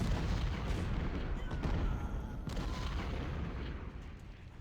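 Heavy 20-pounder cannon fire in a Civil War strategy game, a dense rumbling wash of booming shots that blend together at steady loudness, fading slightly toward the end.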